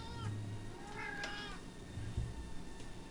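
A house cat meows near the microphone, one short mew followed by a longer, louder plaintive meow, over low background hum and faint game music.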